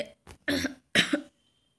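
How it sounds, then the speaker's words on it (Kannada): Two separate coughs from a person nearby, each a short harsh burst with a brief gap between them, alone with no speech and followed by quiet. "ಇನ್ನೂ ನನಗೂ ಕೂಡ ಕೆಮ್ಮು ಇದು ಇದೆ ಕಫ್ ಇದೆ"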